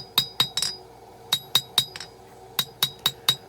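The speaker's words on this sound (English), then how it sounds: "It's really clean forging." Hammer forging a steel knife blade on an anvil: a run of about a dozen sharp, ringing metallic strikes in uneven bursts with short pauses between groups, close and loud with no talking.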